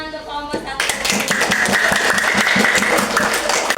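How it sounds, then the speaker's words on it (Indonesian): Classroom applause for a student group during a micro-teaching informatics lesson: a brief spoken voice, then a burst of quick, overlapping hand claps from the class that carries on steadily to the end. "beri tepuk tangan untuk kelompok 1."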